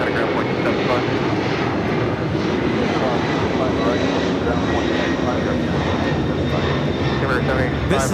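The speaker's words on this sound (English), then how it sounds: "This is Air China Cargo, Flight 8442, taking off to Shenyang on the 747-400 freighter" An Air China Cargo Boeing 747-400 freighter taking off at LAX bound for Shenyang, its jet engines a steady, loud, broad roar, with voices talking over it.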